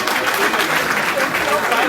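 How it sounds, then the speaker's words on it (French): Audience applause for comedian Blaise Kalaba at a packed comedy show, a steady dense wash of clapping lasting a couple of seconds, with voices mixed in underneath. "On peut l'applaudir comme Blaise Kalaba."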